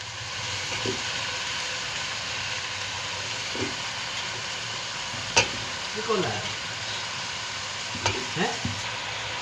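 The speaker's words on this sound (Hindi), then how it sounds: "पालक डालने के बाद साथ ही हम इसमें आलू डाल देंगे।" Spinach and potatoes fry in a pan for aloo palak sabzi, a steady low sizzle running throughout with a few louder scraping stirs from a utensil partway through.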